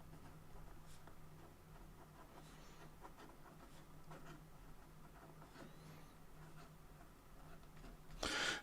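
A broad-nib Edison Elysian fountain pen scratches steadily across paper, a soft, quiet, continuous dry rasp with no voices.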